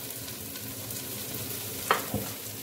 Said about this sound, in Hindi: इस कीमे में मैं आलू ऐड कर दूंगी, तो मैंने क्यूब में कट करके रखे हुए थे, और इसको अच्छे से भूनूंगी।